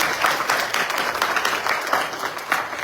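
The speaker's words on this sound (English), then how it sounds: "Now you give another round of applause." A crowd at a youth yajna at a Hindu temple applauds, a close, fairly loud burst of clapping with uneven swells that carries on for a few seconds.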